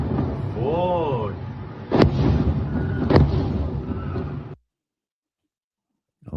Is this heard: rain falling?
no